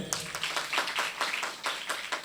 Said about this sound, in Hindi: आप इनके सम्मान में तालियां बजाएं